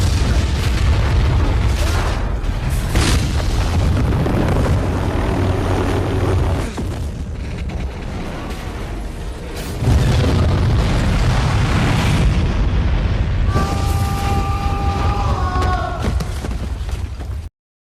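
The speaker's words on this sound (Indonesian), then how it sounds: "sebuah ledakan besar pun terjadi" A loud, sustained explosion at a fire scene in the film Ladder 49 rumbles heavily with deep low-end roar, dipping briefly before surging again, with debris-like crackle and tonal whines near the end.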